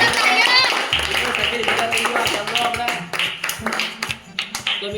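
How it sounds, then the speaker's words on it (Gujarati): Hands clap in sharp, quick bursts during a Gujarati balloon-popping challenge game, mixed with lively children's voices and chatter close by. "તો આ તો તાળીઓ બજાવતા હોય એના માટે"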